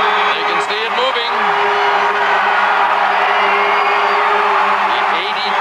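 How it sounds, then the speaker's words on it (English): A large New Year's Eve crowd at the 1989 ball drop cheers and whoops loudly and continuously, with rising shouts and yells over a dense roar while a voice talks above it. "listen to the crowd."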